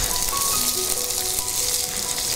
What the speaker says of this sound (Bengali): প্রথমে আদা কুচি আর রসুন কুচিটা দিয়ে দেবো।